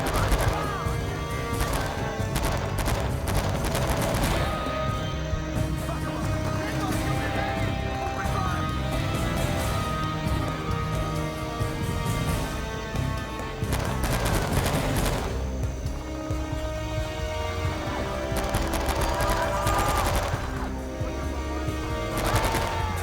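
Heavy, sustained automatic gunfire rattles through a Vietnam War battle at a Vietcong base in the video game Men of Valor, with near-constant bursts and shouted voices over the din.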